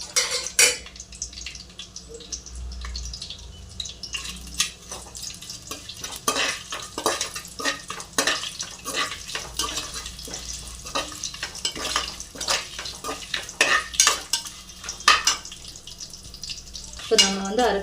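Whole spices such as bay leaf, cinnamon and star anise frying in hot oil for chicken biryani, with scraping stirs and pan clatter over a steady sizzle, no talking.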